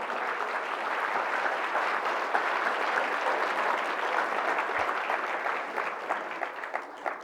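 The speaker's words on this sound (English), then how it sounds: "Maybe you clapped too early" A crowd at a community breakfast applauds a matching gift announcement with steady, full clapping that fills the room and thins slightly near the end.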